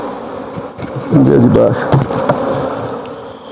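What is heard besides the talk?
swarm of honey bees buzzing during honey extraction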